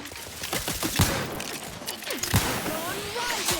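Gunfire in the video game The Outer Worlds 2, loud bursts of rapid shots with heavy impacts over continuous battle noise and whizzing effects, and a voice speaking among them.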